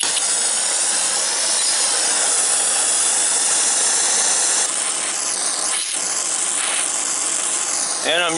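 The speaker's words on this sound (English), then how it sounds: "I'm going to go on ahead and do it with a torch since it's just a very small weld" A gas welding torch hisses steadily up close while small welds are laid on broken grill studs using coat hanger wire as filler, the broadband roar holding nearly unchanged with a few brief shifts near the end.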